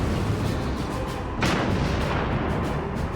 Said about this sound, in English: We take the shell, we put it in the cannon, we aim, and we fire.